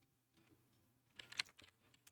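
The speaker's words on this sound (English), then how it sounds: "I'll type in" Brief burst of computer keyboard typing while entering a value in Unreal Engine's character setup, a few faint clustered key clicks near the middle against a quiet room background.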